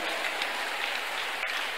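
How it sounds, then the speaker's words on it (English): A church congregation claps in a steady, dense wash of hands, loud and close, with no voices standing out. "Can we clap for Jesus?"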